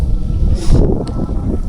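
Loud, blustery wind roars and buffets the microphone in a continuous low rush, with gusts swelling and easing.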